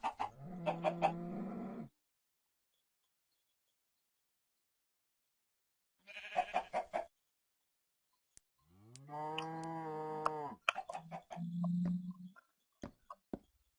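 Farm animals in Minecraft 1.7.2 survival mode: short bursts of chicken clucking mixed with drawn-out cow-like lowing, arriving in separate loud calls between silent gaps, with no talking.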